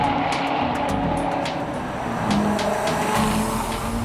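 A 2015 Chevrolet Corvette Z06 sports car with the 3LZ package drives along, its engine and road noise forming a steady, moderately loud drone throughout with no talking.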